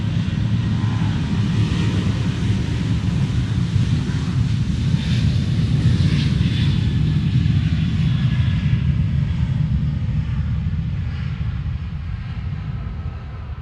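An airplane arriving to land at Bergstrom International Airport gives a loud, continuous low jet roar with wind buffeting the microphone, steady throughout before easing slightly at the end, with no talk.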